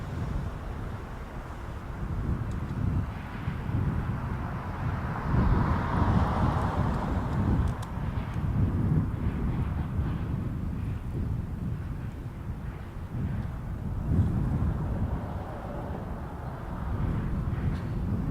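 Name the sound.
Cathay Pacific Cargo Boeing 747-8 freighter at Toronto Pearson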